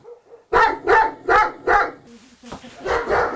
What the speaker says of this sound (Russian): Собака страшная, почти медведь.